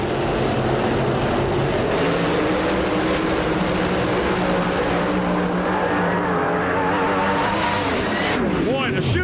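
Alcohol-burning ethanol funny car at an IHRA drag race roars loudly and continuously, a dense engine blast with a rising, sweeping whine near the end, heavy crowd-and-commentary ambience mixed underneath.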